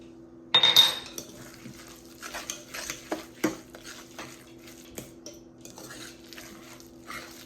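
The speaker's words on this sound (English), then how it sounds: "Give it a stir." A spoon stirs zucchini fritter batter, seasoned with salt and pepper, in a bowl: a sharp clink against the side starts it, followed by several seconds of close, soft scraping and tapping strokes in an uneven rhythm.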